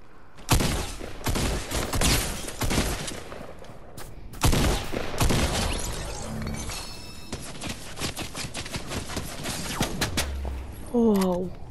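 Gunfire in a video game arena rattles in long loud volleys and fast bursts, with a short pause before it resumes. Game sounds and a brief rising tone come near the end.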